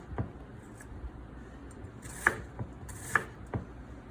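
Sharp knife chops straight down through food on a board, several crisp knocks at irregular intervals with two louder, brighter strikes, close and otherwise quiet.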